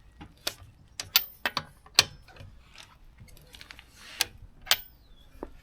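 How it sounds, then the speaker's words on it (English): A 17mm wrench cracks loose the wheel nuts on a Vauxhall Corsa, including the locking nut, giving sparse sharp metallic clicks and ratcheting ticks at close range. "start with the locking wheel nut, just crack it off slightly, and the same with the other three nuts"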